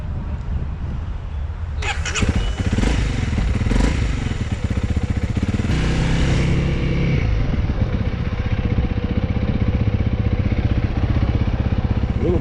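A Honda CRF300L dual sport motorcycle idles nearby with a steady, fairly quiet single-cylinder thrum, with a couple of brief throttle blips and some clatter early on.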